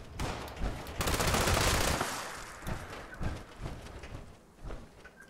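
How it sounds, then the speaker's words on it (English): Rapid bursts of gunfire from a light machine gun in the video game Fallout 76, a dense volley in the first two seconds easing into scattered, fainter shots. "I can hear bullets going off."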